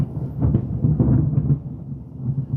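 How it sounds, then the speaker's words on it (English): Thunder rumbles during a thunderstorm: a low, rolling, muffled rumble that swells and fades over a few seconds, heard from indoors with no speech over it. "that lightning, it is thundering and lightning"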